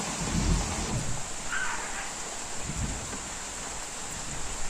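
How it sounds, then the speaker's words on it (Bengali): Rain pours steadily over a rural village while distant thunder rumbles low beneath it, a constant hiss of falling water with a brief brighter patter of drops. "সাথে সাথে আবার বৃষ্টি হচ্ছে, আর সাথে আবার বাজ পড়ছে"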